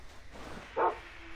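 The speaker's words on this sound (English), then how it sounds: "Dogs again." A single sharp dog bark in the video game Far Cry 3, brief and moderately loud over a low ambient game background, with no talk.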